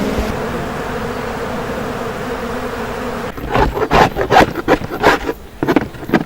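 Honey bees buzzing at an open hive during a honey harvest, a steady drone that turns louder and busier partway through, with scraping, wooden knocks and bursts of agitated buzzing close by.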